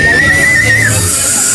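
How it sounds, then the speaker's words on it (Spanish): A small chiflador toy whistle is blown at a Xantolo festival in Huejutla, one thin, steady whistle tone of about a second, sliding down at the end, over loud, constant crowd and festival noise. "Estos son chifladores."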